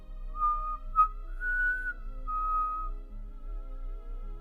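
An eerie, thin whistled tune, wavering and sliding in pitch, sounding alone and fairly soft over a faint low hum, used as a spooky effect in a Halloween scary story.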